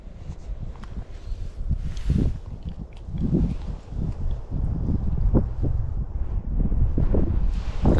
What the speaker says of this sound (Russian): тут ветер какой